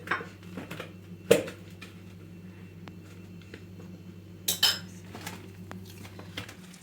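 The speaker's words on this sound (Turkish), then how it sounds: "Bir çatal yardımıyla ezeceğim bu şekil." Fork mashing butter, egg and powdered sugar in a bowl for an apple tart dough: sparse soft scraping with a few sharp clinks of metal on the dish, close and quiet.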